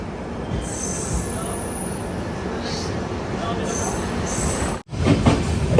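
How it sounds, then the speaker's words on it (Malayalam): An express train slowing through Kayamkulam station, heard from aboard a 3AC coach: continuous low rolling rumble of the carriages, with high metallic wheel squeals rising and fading repeatedly and a sudden brief dropout before heavier clatter resumes. "അതെ, കായംകുളത്ത് ട്രെയിൻ എത്തിയേ."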